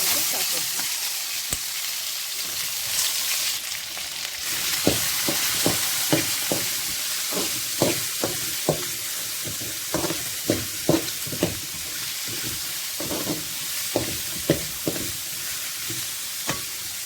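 Coriander leaves frying in oil in a pan make a constant soft sizzle, broken by a quick, irregular series of sharp spatula clicks and scrapes as they are stirred.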